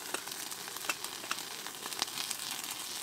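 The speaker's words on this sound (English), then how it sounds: "Let's put it right in the fire for now. Sear it up a little." Meat sears in a winter campfire, giving a faint, steady sizzle with soft crackles and pops close by.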